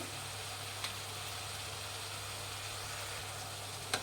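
Onions frying in a pan for heralekayi chitranna, a soft, steady sizzle under a constant low background hum, with a couple of faint clicks.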